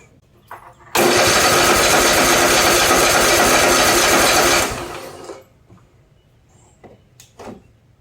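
A riding lawn mower engine with low compression, choke engaged, cranks and catches in one loud sustained burst of about four seconds before dying away, with faint clatter before and after.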